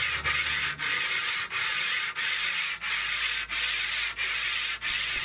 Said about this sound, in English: I ended up using my sanding beam in a couple different angles to best work around the adjustment lever.